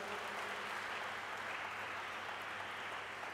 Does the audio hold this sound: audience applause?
yes